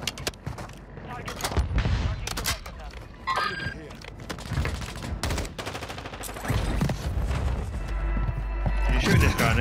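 Rapid bursts of gunfire from a shooter video game crackle near and loud, some in quick automatic strings, with people talking over and between the shots.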